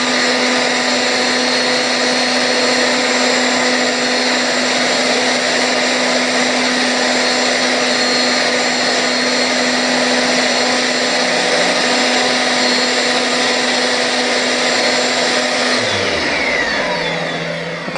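A Eureka AS2113A AS ONE bagless upright vacuum cleaner in Pacific Blue runs with a loud, steady whine and motor hum, close by and alone, before it spins down near the end.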